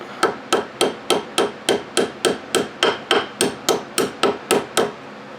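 Ball peen hammer strikes flatten a metal axle carrier part from an Arrma Kraton RC truck, about fourteen sharp, even metallic taps in a steady rhythm, close and clear with no talk.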